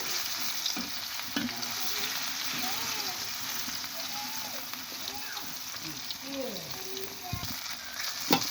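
Fish frying crisp in oil gives a constant, dense sizzle that runs the whole time, with a voice talking over the hiss.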